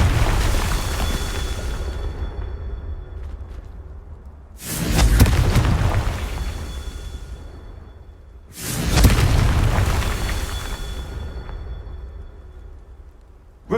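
A Confringo fire spell in Hogwarts Legacy detonates twice, each blast a loud booming burst with a rushing fiery tail that slowly fades. A low rumbling ambience fills the gaps between the two explosions.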